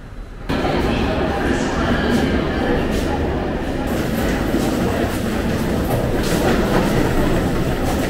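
A high-speed YHT train pulls into a station in Turkey, a loud, steady rumble with rolling clatter and a faint metallic squeal filling the whole clip, with people talking in the background.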